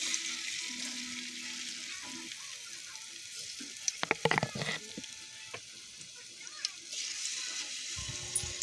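Cabbage (repolyo) nuggets frying in oil, a faint steady sizzle with scattered clinks and scraping of utensils in the middle and a few bumps near the end.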